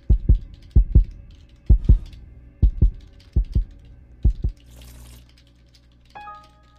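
Heartbeat sound effect in the Roblox game Flee The Facility: a run of loud, deep paired thumps in a steady rhythm for about four seconds, then a fainter rushing hum and a short electronic tone.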